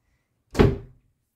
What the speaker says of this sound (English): Come back in, close the door.